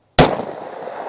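A single loud +P pistol round fires from Berry's hybrid ammunition, a sharp close crack followed by a long, gradually fading echo.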